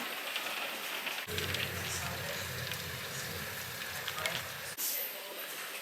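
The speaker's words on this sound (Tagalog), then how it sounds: "Heavy ang ulan." Steady, heavy rain hisses and patters on a surface, a dense continuous wash of sound with a brief break near the end.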